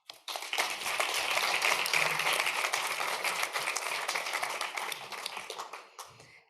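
Sustained round of applause from an audience at a youth closing-remarks event, dense crowd clapping that swells quickly, holds steady for several seconds, then tapers off near the end.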